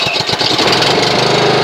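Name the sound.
Honda HRX217HYA lawn mower engine starting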